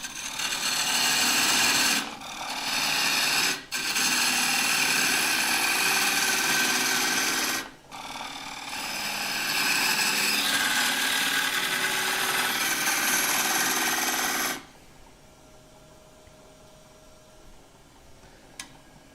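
Lathe turning an oak burr bowl gives a loud, steady broadband tearing and hissing as the tool cuts, broken by a few brief pauses, then stops abruptly near the end, leaving a quiet hum.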